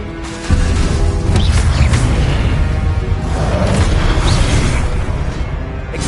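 A Confringo explosion spell goes off in Hogwarts Legacy, a sudden heavy boom that swells into a sustained, roaring blast with bursts and whooshes layered through it, loud and close for several seconds.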